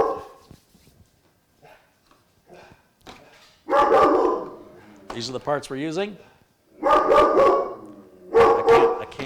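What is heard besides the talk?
dog barking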